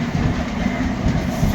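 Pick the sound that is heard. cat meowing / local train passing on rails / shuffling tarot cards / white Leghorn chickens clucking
local train passing on rails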